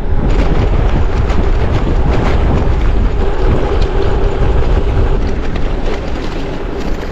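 Strong wind buffeting the microphone during a road bike ride on the Tour of Flanders course, a steady loud roar that stays constant throughout with no talk.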